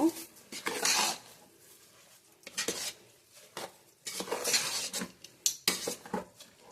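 A utensil scrapes and clinks around a pot over a low flame in repeated bursts, rice being stirred for avarekalu pulao close by, with short pauses between strokes.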